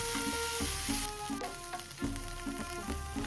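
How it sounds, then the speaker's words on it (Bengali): Baby corn gets flash-fried over a high flame for a crispy salt-and-pepper starter, a bright crackling sizzle under a rhythmic, tonal background layer. "ভাজা কর্নগুলো আর একবার ফ্ল্যাশ ফ্রাই করে নাও মানে হাই ফ্লেমে আর একবার ফ্রাই হবে"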